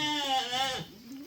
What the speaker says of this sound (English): How many of these goats going with us?